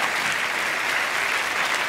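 Studio audience applause on an Italian TV talk show about regressive hypnosis, a steady, dense wash of clapping that fills the whole stretch at an even level with no voices on top.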